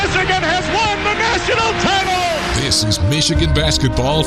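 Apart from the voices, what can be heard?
None of the usual background noises is heard.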